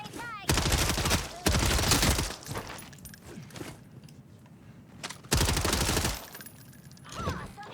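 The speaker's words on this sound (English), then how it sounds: "Awesome headshot." Bursts of gunfire in Modern Warfare Zombies, three loud close volleys of rapid shots separated by quieter stretches of game noise, with a few short crackles between them and speech in places.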